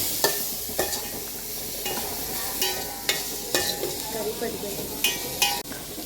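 Onion fries with a steady sizzle in a home kitchen pan while a utensil scrapes and clicks against it in repeated stirring strokes, close and continuous.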